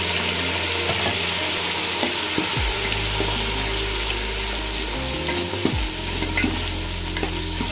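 Goat head meat pieces for an Andhra-style curry fry and get stirred in a pan, giving a steady close sizzle with scraping stirs throughout and a low hum underneath.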